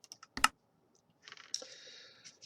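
Computer keyboard keys are pressed in a key combination, giving a few sparse, separate clicks, one sharp and louder, followed by a faint, longer scraping tap, close and quiet with no talking.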